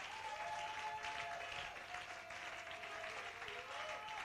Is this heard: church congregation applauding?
yes